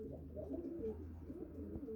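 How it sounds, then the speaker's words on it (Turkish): A pigeon or dove coos softly and repeatedly at close range, a low rounded murmur continuing steadily throughout with no voices. "Bakın arkadaşlar kuşa."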